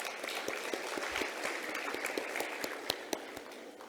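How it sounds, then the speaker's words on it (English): Audience applause at the Women in Science Awards in South Africa, a dense, steady patter of many hands clapping, moderately loud and continuous. "A round of applause, please."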